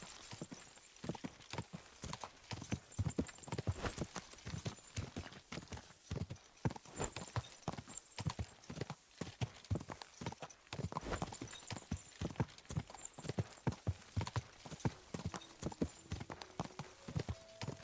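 Horse hooves clip-clop steadily in the Kingdom Come Deliverance 2 video game, a dense, even rhythm of close, loud hoofbeats carrying on throughout with no talk.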